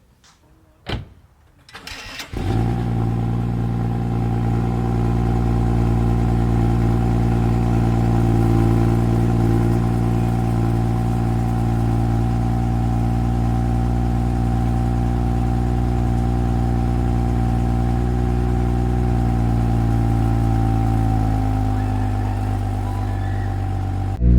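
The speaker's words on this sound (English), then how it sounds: "The car's kind of still cold, so that's why it's doing the cold start." A BMW GTS on stock exhaust cold-starts: the engine cranks and fires up, then settles into a steady, loud idle that drops slightly in pitch near the end.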